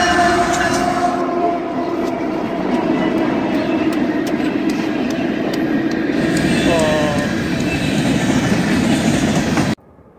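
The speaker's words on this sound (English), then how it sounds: "We've got a train coming, northbound." A Norfolk Southern train rumbles steadily past close by, wheels clattering and a brief squeal, before the sound cuts off abruptly at the end.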